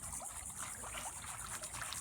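Water trickles and circulates in a disappearing fountain set over a 48-inch below-ground basin in a courtyard garden, a soft continuous outdoor splash and dribble heard faintly and steadily, with no voices.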